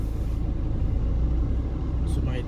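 A car rolls slowly into a petrol station forecourt, its engine giving a steady, close, low rumble with road noise throughout and no clear talk over it.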